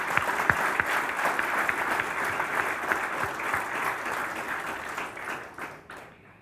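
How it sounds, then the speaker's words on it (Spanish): Sustained applause from a seated audience at a formal signing ceremony in a hall, steady dense clapping throughout that tapers off near the end, with no voices over it. "lo recibimos con un aplauso."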